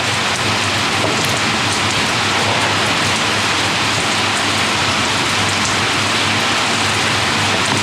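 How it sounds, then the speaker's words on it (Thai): Steady rain falls continuously, a dense, even hiss of drops on surfaces close by with no voices. "โอ้ฝนตกซะแล้ว"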